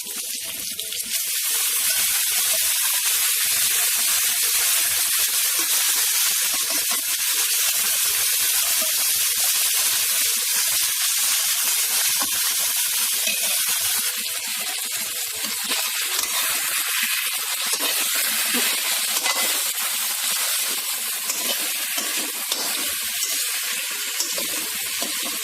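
Soaked sago pearls frying in a pan for javvarisi upma, a loud, continuous hissing sizzle that holds steady throughout with no talking.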